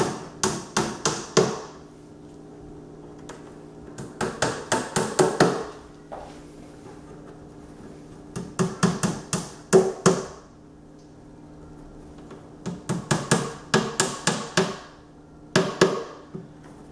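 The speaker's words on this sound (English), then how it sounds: "On the very top, you need to put wooden pegs into the innermost holes." Wooden pegs being knocked into the top holes of an IKEA Micke drawer unit, sharp rhythmic taps in clusters of four to six with short pauses between, close and crisp.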